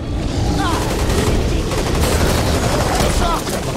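Machine gun fire in the zombie shooter Back 4 Blood, loud and continuous rapid bursts filling the whole stretch, with faint voices underneath.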